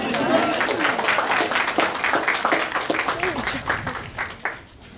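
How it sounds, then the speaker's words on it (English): Wedding guests applaud during the ceremony, a dense burst of clapping mixed with cheering and voices that holds steady for several seconds, then thins out and fades near the end. "That was a time for a round of applause."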